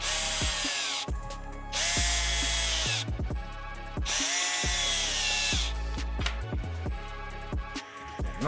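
A small electric screwdriver drives screws to fasten a servo into its holder on an Arrma Typhon 6s RC car's rear wing, with several whirring bursts separated by short gaps and faint clicks.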